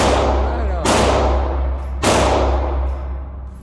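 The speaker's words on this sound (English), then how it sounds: "he's shooting a lot closer this time." Two loud gunshots boom at an indoor gun range about a second apart, each a sharp close crack followed by a long reverberant decay over a constant low rumble.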